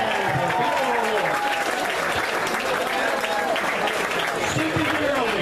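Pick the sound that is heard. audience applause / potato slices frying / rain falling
audience applause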